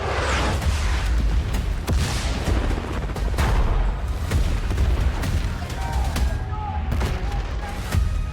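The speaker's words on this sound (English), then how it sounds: "Returning gunfire in the streets of Cairo." Gunfire in the Battlefield 6 video game trailer, set in the streets of Cairo: scattered sharp shots and bursts over a constant loud rumble of combat and explosions, with a dense war-zone bed throughout.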